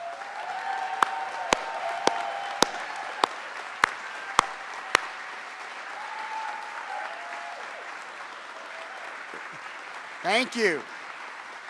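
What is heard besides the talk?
round of applause for climate action team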